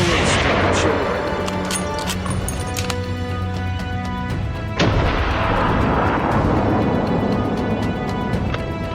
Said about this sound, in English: One clean shot. My bullet struck the shoulder.